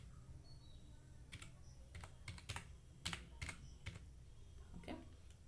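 Irregular keystrokes of someone typing C code on a computer keyboard, quiet clicks in uneven bursts, some clustered and some spaced apart, over a low steady background hum.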